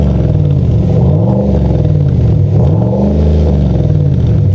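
Big-displacement engine of an overland build truck revving hard, a loud, close throaty rumble rising and falling in pitch through a couple of throttle blips, with no talk over it.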